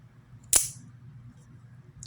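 Quick sharp snap as two buttons on a belt sheath are pressed and a small, compact knife is drawn, a single bright burst that fades over a low steady background hum, with faint clicks afterward.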